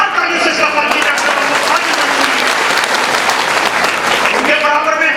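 Loud, sustained applause from a crowd at a district-level community conference in India, continuous clapping filling the whole stretch without a break.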